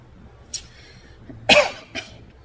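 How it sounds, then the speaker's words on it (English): Three coughs at moderate distance: a light one, then a louder, harsh cough, followed by a softer third, with quiet room noise between. "Don't know why I started coughing again today."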